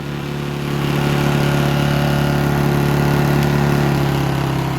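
A Honda generator runs steadily on a farm, its engine droning loud and close with a constant low hum and no voices, holding an even pitch under load.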